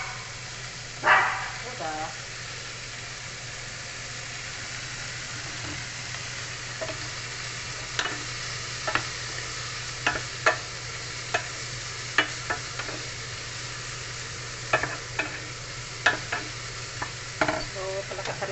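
Beef sizzles in a pan for Filipino ginisang sitaw, a steady frying hiss broken by repeated sharp scrapes and clacks of a spatula stirring, while a voice speaks briefly now and then.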